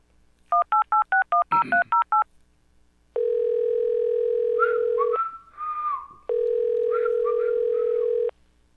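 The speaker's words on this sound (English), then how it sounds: "Let me call Adam Gase right quick." Telephone keypad dialing tones, a quick run of about ten evenly spaced beeps, followed by a long steady tone, a brief warbling pattern and a second long tone, loud and clear with no talk.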